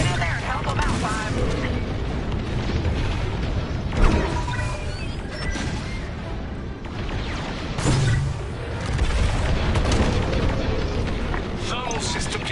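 Heavy fire striking a Corvette in a space battle video game, dense blasts and booming explosions over a constant loud rumble, with big impacts near the fourth and eighth seconds.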